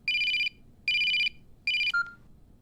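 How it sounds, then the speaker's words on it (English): An electronic phone ringtone sounds three times in even, repeated tonal bursts, loud and close, followed by a short beep as the call is picked up, with no voices. "After work, her phone rings."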